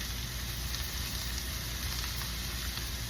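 Steak sizzling over an open wood fire, a steady, faint crackling hiss of fat and juices with small pops, continuous and unchanging throughout.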